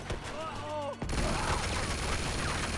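Gunfire in the action game Uncharted 2, a dense continuous rattle of shots erupting after a short stretch of talking and holding loud to the end.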